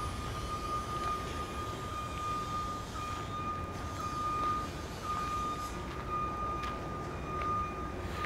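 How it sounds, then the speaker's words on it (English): A construction vehicle's reversing beeper at a big building job sounds in the background as a steady series of faint repeating tones over constant outdoor noise and traffic rumble. "You can hear the construction beeper going in the background there."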